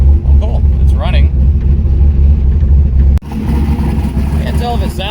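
A Mazda Miata engine idles steadily after fuel system work, a close, rumbling low drone running throughout with a brief break partway, while people talk over it.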